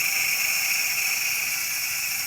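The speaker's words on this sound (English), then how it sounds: "I'm going to release the steam." Steam hisses steadily as it is released from a cooking pot, a close, loud, continuous high-pitched rush with no voices over it.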